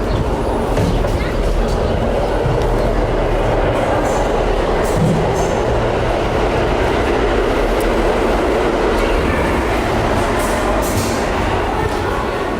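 Inside a subway station, a train's steady rumbling roar and rail clatter fill the space continuously at close range, with a person speaking intermittently over it.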